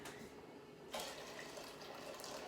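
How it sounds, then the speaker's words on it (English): Fresh water from a kettle pours into a pot of pea soup, a soft steady splashing trickle that grows slightly louder partway through, fairly quiet with no talking. "So I'm going to now add some more fresh water to this."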